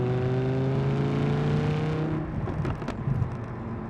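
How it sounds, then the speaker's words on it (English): Audi R8 V10 engine while driving, a loud sustained tonal drone with a strong steady hum that eases after a couple of seconds into rougher rumbling, heard close. "Combined with that glorious sound out of that V10, what a dream."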